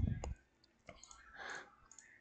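Computer mouse clicking, a few soft, sharp clicks spread across a couple of seconds, close and faint, with quiet breathy noise between them.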